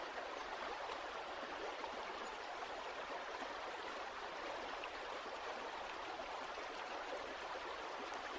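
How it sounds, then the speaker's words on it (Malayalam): A river near a confluence in Kerala spills over a check dam with a soft, continuous rushing flow. It sounds distant and steady, with no voices. "അതുകൊണ്ട് വെള്ളം അതിൻ്റെ മുകളിലൂടെ കയറിയാണ് ഇറങ്ങി വരുന്നത്."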